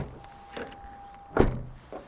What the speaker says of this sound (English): Or the sound of the doors closing.